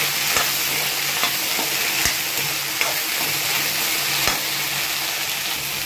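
Okra (bhindi) with salt and chopped green chili stirred in a hot pan, a steady sizzle broken by spatula scrapes and taps at irregular intervals, close and fairly loud with no talking.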